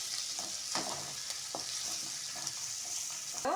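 Capsicum, cabbage, beans and carrot sauté in a hot pan for chappathi noodles, a steady broadband sizzle broken by several sharp scrapes and clinks of stirring, close and fairly quiet, with no talking.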